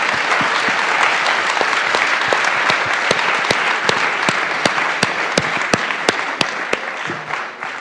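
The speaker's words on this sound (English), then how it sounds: "So a round of applause for the panelists" An audience at an annual investor gathering gives the panelists a round of applause, a dense, steady wash of clapping with a few sharp nearby claps standing out, fading slightly at the end.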